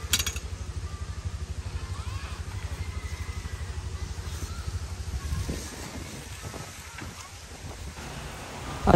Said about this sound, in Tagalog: lakas pa rin ng hangin kahit masyadong maaraw na